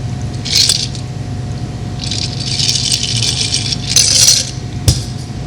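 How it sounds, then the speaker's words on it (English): A Gibson martini strained from a glass mixing beaker into a martini glass, heard as a few bursts of rattling ice against the strainer with a thin liquid pour and a small clink near the end, close and alone. "Strain into a martini glass."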